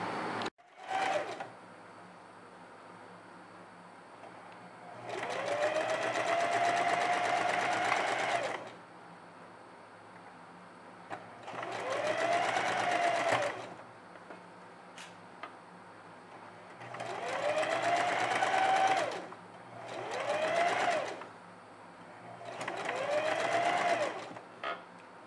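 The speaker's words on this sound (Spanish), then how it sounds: "Y vamos a ir colocando la costura hasta llegar al otro extremo. Realizaremos la costura." Sewing machine stitching a seam on a children's outfit: five separate runs of steady, close mechanical stitching, each lasting a few seconds and separated by quiet pauses, with no talk.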